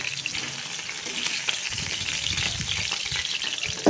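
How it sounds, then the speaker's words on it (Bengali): Soft, constant crackle of frying in oil, with occasional low bumps and stirring noises, close and moderately quiet, no speech. "এদিকে মাছ ভাজা হচ্ছে"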